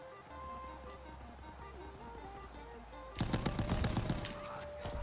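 Gunfire in Call of Duty WW2, a burst of sharp shotgun blasts that suddenly erupts after a quieter stretch of steady game ambience and carries on loudly to the end.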